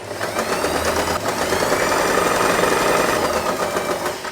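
Scrunchie fabric being stitched on a sewing machine: a continuous, even mechanical hum with a fast chattering rhythm, loud and close, running without pause and with no voices.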